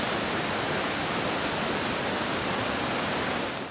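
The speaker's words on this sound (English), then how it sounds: "this is one of the two rivers, I don't know which is which, that join up just down the track a bit" A river runs through lichen- and moss-covered forest in Tasmania, making a steady, even broadband rush of flowing water close by. It holds constant throughout and fades slightly at the end.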